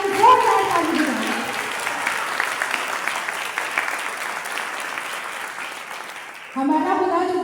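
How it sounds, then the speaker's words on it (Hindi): A church congregation claps loudly and steadily for several seconds after a call to praise God, the applause fading slightly before a sudden loud voice breaks in near the end. "उसी जिंदा खुदा के लिए हम बहुत ताली बजाएं"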